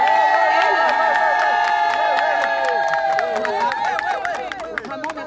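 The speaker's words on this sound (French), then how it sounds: "Donc je voudrais que vous ayez un tonnerre d'applaudissements." An audience at a live French event cheers with whoops, shouts and high voices rising and falling, while scattered claps grow thicker toward the end, all loud and close.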